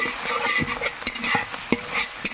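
Onion with ginger and garlic paste frying in oil, a soft steady sizzle broken by irregular scraping stirs of a spoon in the pan, close and moderately quiet, no voices.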